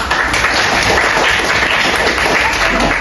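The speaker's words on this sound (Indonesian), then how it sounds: "tepuk tangan" A classroom full of students claps together in sustained, dense applause that stays even and loud throughout, with no clear speech.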